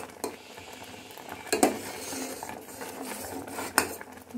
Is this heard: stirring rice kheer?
yes